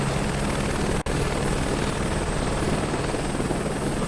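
A helicopter in Microsoft Flight Simulator 2024 drones on in a steady, close, loud engine and rotor hum with a faint high whine on top and one momentary dropout, without any talking.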